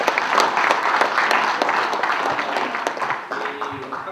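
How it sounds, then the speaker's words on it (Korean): Applause from the assembled audience at a clan association's New Year gathering, a dense, steady patter of clapping across the hall that thins toward the end as a voice begins to speak. "박수 한번 보내주시고"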